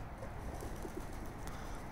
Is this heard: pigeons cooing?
yes